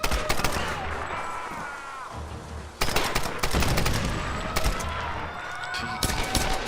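Bursts of gunfire from the Tomb Raider video game crackle repeatedly across the clip, with a brief lull near the three-second mark before heavier rapid shots resume, loud and close.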